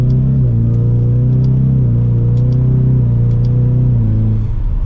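A 2022 Ford Mustang EcoBoost with the High Performance Package and 10-speed gearbox pulls away from a standstill, its engine droning steadily and loud up close, the pitch rising and dipping slightly through the shift points.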